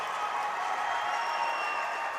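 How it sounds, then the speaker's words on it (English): Hockey fans cheer at a Pennsylvania high school Division II championship game between Burrell and Moon, a steady broad crowd roar with scattered applause sustained throughout, somewhat distant. "the cheer of the Moon Tigers fans."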